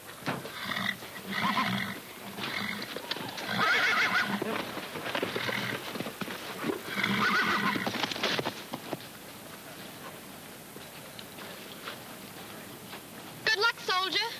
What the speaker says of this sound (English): It's a wild horse.